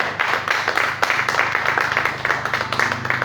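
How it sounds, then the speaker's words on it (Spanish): A church congregation applauds during a worship service, a dense, steady wash of many hands clapping at close range that holds for the whole stretch. "¿Por qué no le dan un aplauso al Señor en esta hora?"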